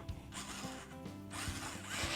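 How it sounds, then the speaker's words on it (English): A power drill bores into metal during a salvage-workshop clock build, a steady grinding whir with sharp rising bursts as pressure is applied, close and fairly loud. "So we're just going to start drilling."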